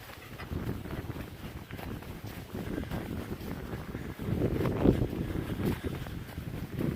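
Chilly, breezy wind on the summit of Mount Greylock, elevation 3491, buffeting the microphone as a steady low rumble with gusts swelling midway, loud and continuous with no talking.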